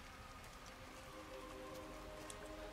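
Rain in the Hitman 3 video game, a soft, steady hiss of falling drops with light patter on surfaces, quiet and continuous throughout.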